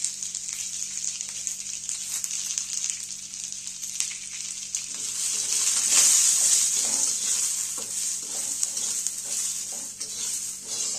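Corn chivda is roasted in a pan over a medium gas flame, a continuous bright crackling sizzle that swells toward the middle and then eases, with faint stirring and pan contact underneath and no voices.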